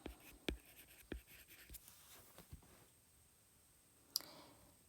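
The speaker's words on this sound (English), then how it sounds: "So let's write those down." Pen writing on paper, a short series of close scratchy strokes and taps with pauses between, ending in a single sharper click, quiet and without talk.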